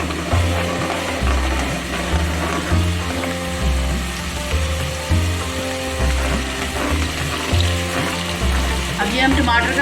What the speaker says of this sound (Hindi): उसी ऑयल में हम अदरक लहसुन का पेस्ट शामिल कर देंगे। इसे भूनेंगे थोड़ी देर तक।